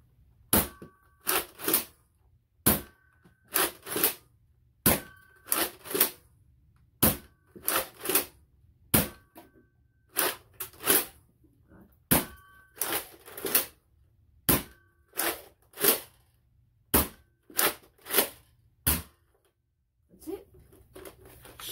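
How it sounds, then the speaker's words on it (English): A Nerf Ultra 3 toy blaster empties a full magazine in a steady string of about sixteen sharp, snappy shots, each a bright clack with a brief whirr, spaced roughly a second apart and close up, with a faint hum underneath. "Shot an entire magazine of Nerf Ultra 3."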